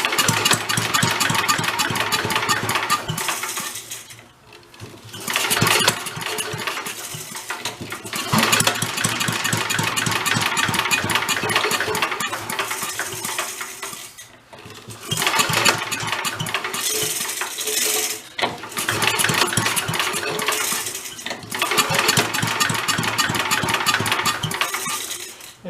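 An abandoned vintage Mite-e-Lite generator engine cranks and catches several times, running loud and rough in bursts with brief drops between attempts, close by and with no talk.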